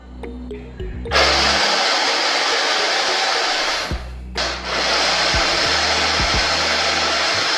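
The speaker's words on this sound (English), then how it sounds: "I blend everything together." A loud, steady whirring blender blends groundnut soup ingredients close by for several seconds, briefly cutting out and restarting partway through.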